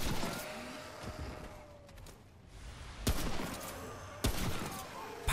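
Rifle gunfire in the video game Remnant: a few sharp, loud broadband shots stand out near the end, with quieter in-game ambience and faint mechanical sounds in between.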